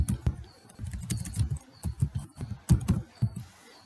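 Typing on a computer keyboard, close and moderately loud, with a steady run of uneven key clicks and taps.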